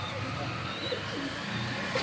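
A pair of racer pigeons, male and female, coo softly in a loft over steady broadband background noise, with a faint voice nearby.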